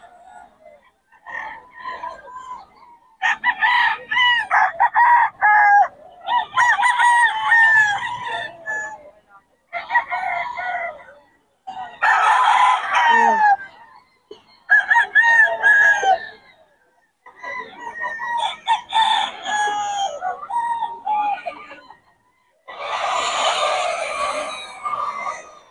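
Gamecock roosters in a Bocaue, Philippines yard crow repeatedly in loud, close bursts separated by short pauses, with occasional clucking mixed in.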